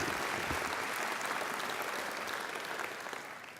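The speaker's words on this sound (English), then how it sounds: "And I think John deserves another great round of applause" Sustained, dense applause fills a university graduation ceremony at Macquarie University, a large audience clapping steadily and loudly before gradually tapering off slightly toward the end.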